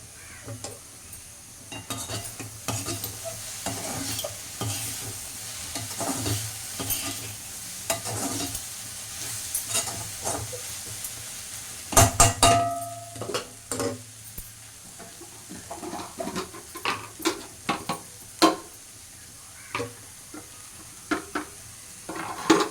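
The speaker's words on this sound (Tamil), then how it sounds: "நல்லா வெங்காயம் வதங்கின பிறகு தான் பெப்பர் பொடி போடும்" Onions sautéing in a pan for a home-cooked sambar and vegetable lunch, with repeated stirring scrapes and soft sizzling, plus occasional utensil clinks and a brief louder clatter partway through.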